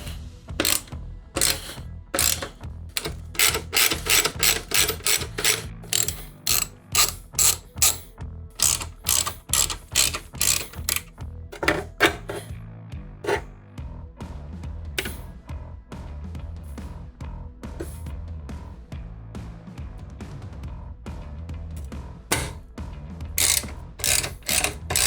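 A hand ratchet clicks in rapid bursts of strokes while bolts are tightened on a Harley Softail Low Rider S motorcycle, close up and alone, with short pauses between runs.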